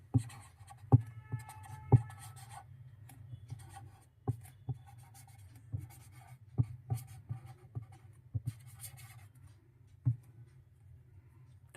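A pen writes the formula for the perimeter of a rectangle by hand on paper, giving quiet scratchy strokes and sharp taps in an irregular rhythm, close up, with no talking.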